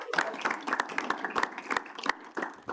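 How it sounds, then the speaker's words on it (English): A small group claps at a students' association meeting, with scattered, uneven handclaps of moderate loudness lasting a few seconds, the individual claps separate rather than merging into a roar. "I suppose we can clap for Dominic."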